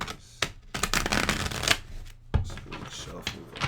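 A tarot card deck is shuffled by hand close up, in quick bursts of riffling and flapping with brief pauses between them. A voice is heard faintly now and then.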